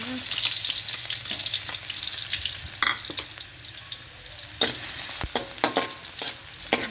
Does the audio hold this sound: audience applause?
no